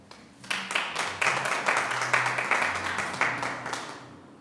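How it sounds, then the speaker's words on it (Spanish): Applause from a congregation during a sermon, starting after a brief pause and building into rhythmic, fairly close clapping that stays steady for a few seconds before fading, with low voices underneath. "Den un aplauso."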